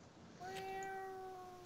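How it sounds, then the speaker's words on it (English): A pet cat gives a single drawn-out meow, rising then sustained and fading, fairly close but soft against quiet room noise. "My cat says hello."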